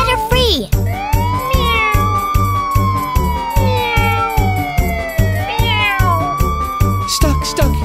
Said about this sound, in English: Stuck, stuck, kitty meows.